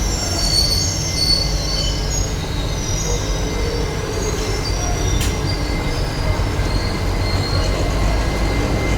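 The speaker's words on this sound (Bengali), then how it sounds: "টানেলের মধ্যে ট্রেন স্লো হয়ে যাওয়া" The 15663 Silchar Express slows inside a tunnel, giving a loud, continuous, enclosed rumble with high, thin wheel squeal drifting over it. No voices are heard.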